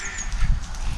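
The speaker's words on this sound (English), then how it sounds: "Ducks." Ducks on a pond, giving short honking quacks scattered over about a second at moderate distance, with soft low outdoor rumble beneath.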